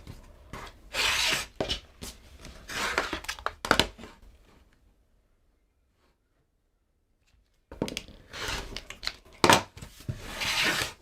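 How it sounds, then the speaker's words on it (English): Scissors trimming excess fabric from sewn pieces, a series of close rasping cuts in short bursts, a silent pause mid-way, then more snipping and rustling of cloth. "then I'll just trim this excess off at the top here"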